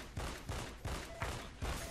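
Gunfire in the shooter game Skill, with about five sharp shots fired in a fairly even rhythm, moderately loud with short gaps between them.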